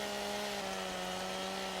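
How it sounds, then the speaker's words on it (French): A chainsaw cutting in the farming game Farming Simulator 17, a continuous buzzing motor whine held steady and fairly loud for the whole stretch, with no talk. "Sors la tronçonneuse, c'est ce que j'ai fait"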